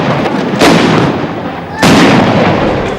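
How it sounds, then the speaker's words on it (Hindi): Bofors artillery guns fire two loud, sharp blasts about a second apart, each booming report followed by a rumbling decay. "इन बोफोर्स तोपों के धमाके तो दमदार हैं ही"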